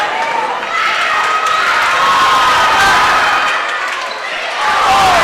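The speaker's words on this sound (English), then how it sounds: "you can tell by the home crowd on our radio listener side that free throw is good for Bexley Woodard." Home crowd at a high school boys basketball game cheers a made free throw, a loud sustained roar of many voices swelling and easing over a few seconds, with shouts rising above it.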